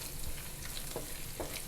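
Salmon pieces for tibs frying in a pan, heard as a soft, faint sizzle with a few light stirring scrapes and taps, close by and without voices.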